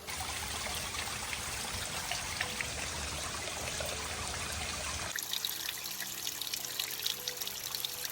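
Water flowing and trickling from a waterfall on Koh Phangan, Thailand, a steady continuous rush that drops to a softer, quieter stream partway through, with no talk.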